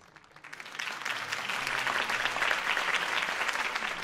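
Crowd applause rises after a campaign speech in the Batman Telltale video game, a dense steady clapping that swells within the first half second and holds loud and sustained with no talk over it.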